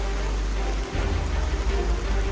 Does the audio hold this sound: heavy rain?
yes